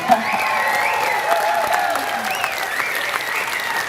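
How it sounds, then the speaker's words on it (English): An audience claps warmly at a community awards banquet in Carpinteria, a dense, continuous round of applause with some crowd cheering and voices mixed in. "she needs another round of applause"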